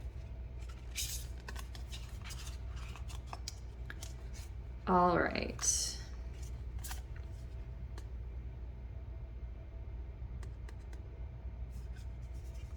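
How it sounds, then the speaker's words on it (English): A short burst of tarot cards being riffled and shuffled, crisp and close, after a brief spoken phrase, against a quiet background hum. "apparently I need to shuffle them more"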